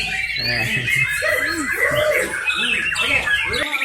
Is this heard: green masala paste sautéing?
no